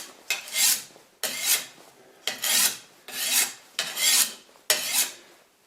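A sharpening stone rasps along a renovated sickle blade in six steady, evenly spaced strokes. Each stroke rises and fades, close and clear with no talking.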